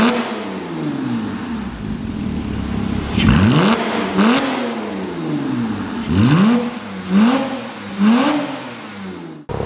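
Porsche 987 with an aftermarket sports exhaust revving up and down in repeated sharp blips, loud and close, running in sport mode with the exhaust valves switched off; no talk.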